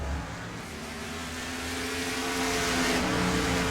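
Race car engine in the iRacing NASCAR AI Series at Road America, a steady droning hum that swells gradually as the car heads into pit road, with no talk over it.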